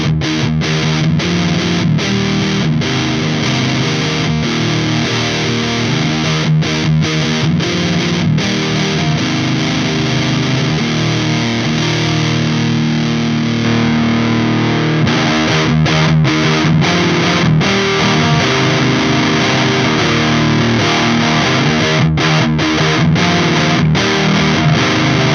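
An electric guitar runs through an EarthQuaker Devices Chelsea op-amp muff fuzz pedal, playing dense, continuous saturated riffs with heavy distortion throughout, with no talking.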